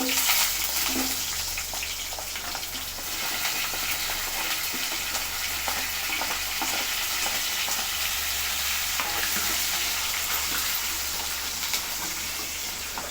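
Sambar onions, green chilies and curry leaves sauté in a pan for a traditional lentil dumpling curry, giving a steady close sizzle with light stirring scrapes throughout and no voices.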